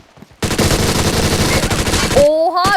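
Sustained automatic gunfire in an online shooter video game bursts in loudly and rattles continuously for nearly two seconds, followed by a short excited voice.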